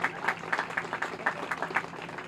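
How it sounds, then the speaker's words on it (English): Applause from a crowd gathered at a park renaming opening ceremony, honoring the governor; a steady, moderately loud patter of many hands clapping with uneven bursts, fairly close. "And really, we clap the governor."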